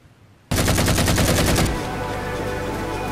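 Sudden burst of rapid automatic gunfire in the Halo 4 video game, loud and dense for about a second, then giving way to a sustained noisy rumble of battle.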